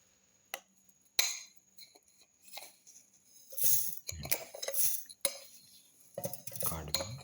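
Carrot pieces and cardamom pods for a winter melon carrot smoothie drop into a container, giving scattered close clinks, taps and knocks with quiet gaps between them. Some sounds are isolated and others come in short clusters.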